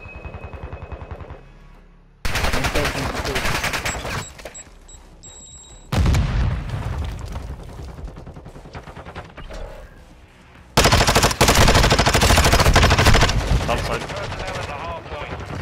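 Rapid gunfire in Call of Duty Modern Warfare 2, loud bursts of automatic shots and booms in three heavy stretches, with players talking over the action.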